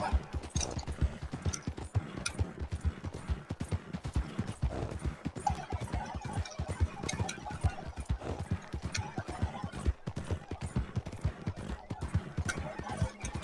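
Steady, rapid clip-clop of horse hooves on a hard surface in a video game, close and continuous throughout.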